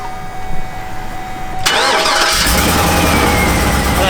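A used pickup truck said to have a misfire cranks and its engine catches at about 1.7 seconds, settling into a loud, steady, close-up idle rumble that continues to the end.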